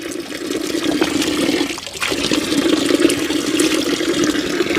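Water flowing from a natural mountain spring in a hill village, a steady close splashing gush with a brief dip partway through, continuous and alone without speech.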